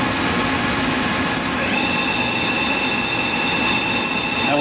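Spindles of a Mollart Omnisprint LD2-750 CNC knee-type deep hole gun drilling machine run in a steady high whine with constant tones, one rising pitch joining partway, loud and unbroken with no talk.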